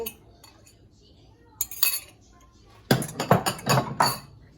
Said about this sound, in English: You lightly beat the eggs and just drop them in.